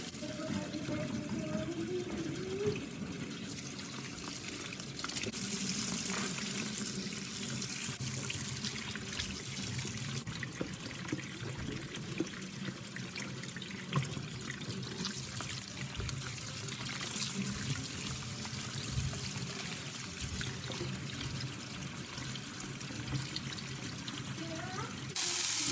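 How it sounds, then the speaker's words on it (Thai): Wild ostrich fern fiddleheads are rinsed under a running kitchen tap, a continuous faint splashing and trickling of water with someone speaking over it throughout. "ก็ล้างด้วยน้ำไหลค่ะ"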